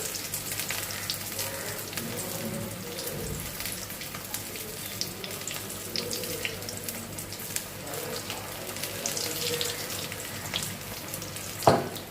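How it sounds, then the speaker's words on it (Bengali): Gram flour batter frying in hot oil, heard as a continuous dense sizzle and bubbling that holds steady throughout, with a sharp utensil knock near the end and no speech. "লাল লাল করে ভেজে নেব।"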